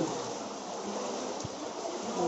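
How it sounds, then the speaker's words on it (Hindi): Water flows and rushes continuously through Robert's Cave in Dehradun, a close, steady wash of broadband noise with one brief thud partway through. "And the water is flowing."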